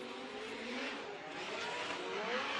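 A drift car's engine revving hard on track during a Formula Drift round at Wall Stadium in New Jersey, a continuous rising and falling roar heard from a distance, with no voices.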